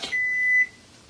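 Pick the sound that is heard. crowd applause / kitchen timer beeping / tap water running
kitchen timer beeping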